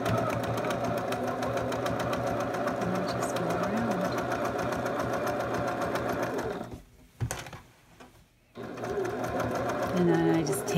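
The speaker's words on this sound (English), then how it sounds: "sew around each of these half circles so that it sews the edge down" Sewing machine stitching the edges of fabric half circles runs in a fast, steady mechanical chatter, pausing briefly midway before resuming, with a person talking over it.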